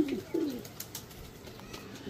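A pigeon coos twice in quick succession near the start, then only faint background noise follows.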